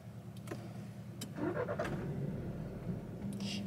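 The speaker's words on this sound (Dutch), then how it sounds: "En ik ga de auto weer even starten." A car engine cranks and catches, then settles into a low steady idle, close and moderately loud, with a few clicks and knocks from the car around it and no voices.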